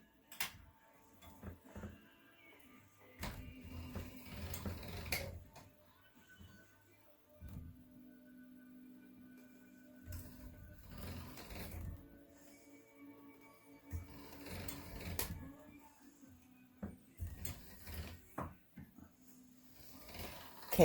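Purple and green polymer clay is cranked through a hand-operated clay rolling machine: repeated passes of low mechanical grinding and clicking in bursts separated by short pauses, close and moderately quiet, with no talking.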